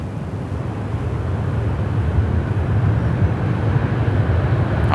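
An Airbus A330-300 airliner at Sydney Airport, heard as a loud, continuous low roar of jet engines that holds steady and swells slightly, with no voices over it.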